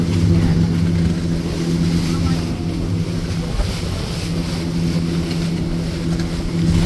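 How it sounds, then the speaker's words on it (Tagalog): Steady wind rushes over a constant low engine drone, like riding on a moving boat, with no clear breaks, on a trip to Panukulan, Quezon. "Mahangin."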